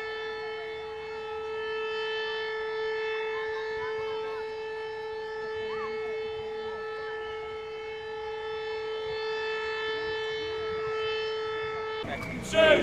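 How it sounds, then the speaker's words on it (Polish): Air raid sirens hold a steady, loud wail over a city at 5 p.m. on the Warsaw Uprising anniversary, continuing unbroken for about twelve seconds before cutting off with a brief clatter at the end. "W godzinę W o 17 zawyły syreny."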